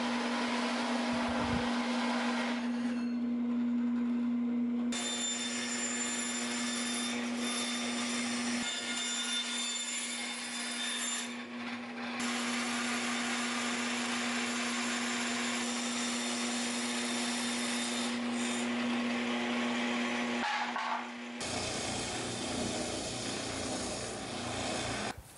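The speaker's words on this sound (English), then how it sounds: "now I'm cutting them out using the drill press and the bandsaw" Steady machine whine of a drill press and a bandsaw cutting wood parts, a continuous loud drone with brief pauses and changes in pitch as the cuts proceed.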